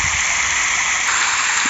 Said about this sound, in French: Une douche donc obligatoire à l'entrée.